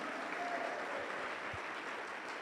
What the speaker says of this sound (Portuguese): Vamos aplaudir a Ele por isso, glória!